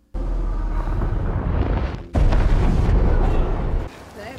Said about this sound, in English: that bomb was huge.